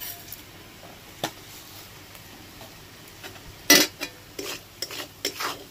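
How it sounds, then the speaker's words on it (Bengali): Prawn masala being stirred and mixed in a frying pan, a handful of scraping, knocking strokes against the pan over a soft, steady sizzle, with one louder clatter midway. "এবার এটাকে ভালো করে মিশিয়ে নেব।"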